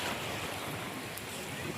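Sea waves wash against the shore where clay idols are immersed, a steady broad rush with wind noise across the microphone, fairly faint and continuous throughout.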